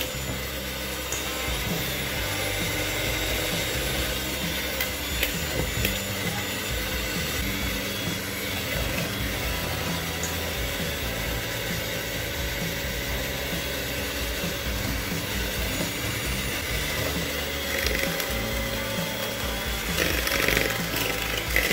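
An electric mixer beats batter for a Brazil nut cake in a bowl, a loud continuous motor whir with rattling and scraping that holds steady throughout and swells slightly near the end, with no talking.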